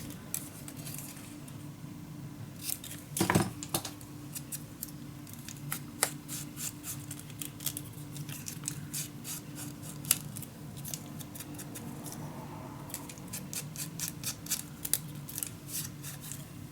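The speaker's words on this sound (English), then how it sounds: "then you just can cut your little piece." Scissors snip a small piece of paper for a steampunk Christmas mini album craft, giving faint, soft clicks and crisp cuts scattered over a quiet background, with one louder snip.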